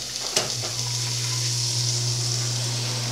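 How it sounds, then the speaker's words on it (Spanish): Food sizzles steadily in Diana cooking oil in a home kitchen, with a constant close crackling hiss over a low hum and a brief clink near the start. "Esperamos que se fría con aceite Diana"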